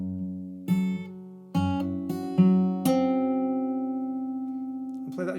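An acoustic guitar plays bar 6 of a song, a few plucked notes and strums that ring out and slowly decay, played alone without talk.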